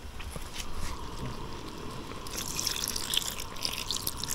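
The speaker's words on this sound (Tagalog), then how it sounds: "Lagyan natin ng konting tubig para hindi siya malapot masyado yung gata." Water pours into a pot of coconut milk for a sea snail and squash dish, a steady close trickle and splash that brightens toward the end, with no voices over it.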